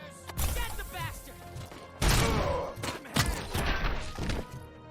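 Pistol gunfire from enemies in the video game RoboCop: Rogue City, several sharp loud shots and crashing impacts in bursts, mixed with game sound effects and voices talking.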